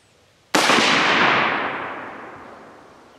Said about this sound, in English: We're going to shoot this gun, we're going to make sure that it is dead on, so we'll give it a shot here.